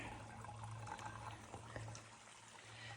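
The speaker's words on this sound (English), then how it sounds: "I'll stop to fill up water." Water from a stream trickles and pours steadily into a bottle, faint and close, as a continuous low gurgle with no talking.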